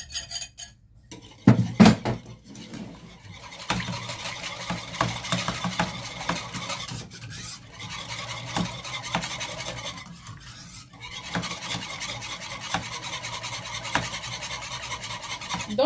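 Batter for a caramel flan being mixed hard in a bowl, with steady scraping and clinking of a utensil against the dish that runs almost without pause, broken by a few short gaps and one louder knock near the start.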